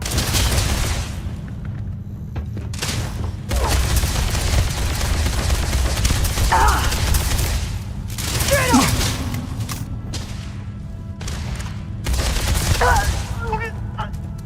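Laser gun fire in Starfield, heard as repeated bursts of sharp zapping shots in separate clusters. Loud combat sounds fill the gaps between the volleys.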